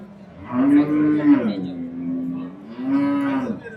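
A cow at a cattle livestock market in Qarshi lets out two long, deep moos close by, the first drawn out and wavering, the second shorter after a brief pause.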